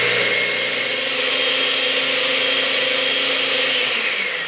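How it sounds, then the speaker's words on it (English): A blender purees warm peach syrup for sherbet, a steady loud high-pitched motor whir running continuously without pause. "So I've got this syrup into the blender."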